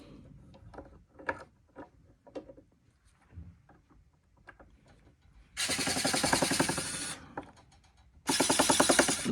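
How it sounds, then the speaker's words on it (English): Scattered clicks and clunks of handling, then two loud bursts of a small cordless screwdriver drill whirring steadily for a few seconds each while replacing a cable guide, close up. "I've got a pair of pliers and my little screwdriver drill."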